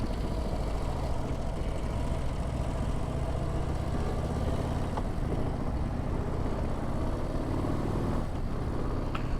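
A 2025 Harley-Davidson Low Rider ST with the high-output 117 engine rumbles steadily while riding, heavy and continuous, blended with dense wind rush.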